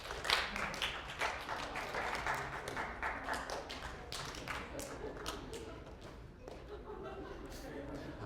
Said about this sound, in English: Could you clap when you see what's different between the two pictures?